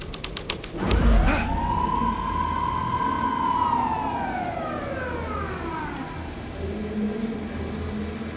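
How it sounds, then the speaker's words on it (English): A police car siren from the Alan Wake 2 video game wails and sweeps up and down over a dark alley ambience at night, staying loud and steady after one sharp hit at the start. "Police car felt important to the story."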